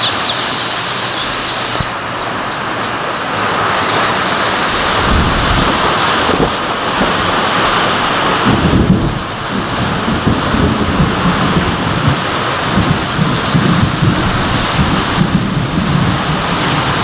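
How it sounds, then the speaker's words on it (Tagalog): Heavy rain pours down steadily in a dense, loud hiss, with low rumbles of thunder rolling underneath. "Lakas ng ulan."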